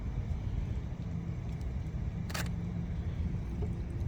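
A single sharp SLR camera shutter click, taken while photographing the interior of a 1955 Chevy Bel Air through the window, standing out over a steady low rumble.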